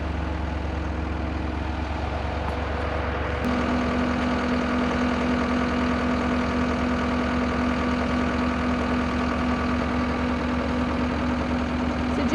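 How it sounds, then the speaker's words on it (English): A skid steer engine runs steadily at idle, a loud, continuous low rumble with a steady hum that holds throughout, no voices over it. "JC has the skid steer hooked up with the forks"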